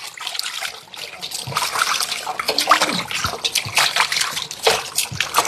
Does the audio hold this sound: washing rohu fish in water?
yes